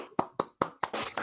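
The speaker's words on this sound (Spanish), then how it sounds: "primero te aplaudimos, Fefo" An audience applauds a speaker at the end of a talk: four sharp, separate claps, then denser, overlapping clapping that fills the last half second.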